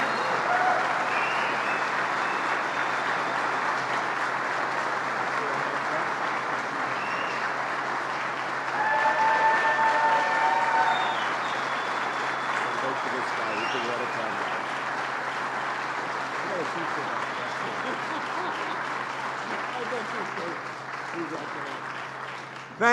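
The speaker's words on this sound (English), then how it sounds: "Let's give him a big round of applause." Audience applause for Senator Charles Schumer at an event about New York State's bailout of Massena's Alcoa plant, a long sustained round of clapping from a sizeable crowd, steady and even, swelling briefly midway.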